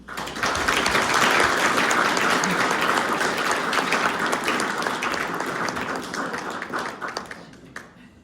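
Audience applause welcoming the moderator at a mayoral candidates night in Springdale, a full burst of many hands clapping that swells quickly and tapers off over several seconds.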